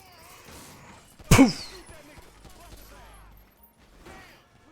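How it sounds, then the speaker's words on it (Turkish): One sharp, loud gunshot cracks out in Grand Theft Auto V amid street game ambience, with someone talking before and after it. "Yo güzel ben güzel kafaya headshot atıyorum."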